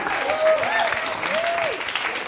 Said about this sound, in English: Big round of applause for Matthew.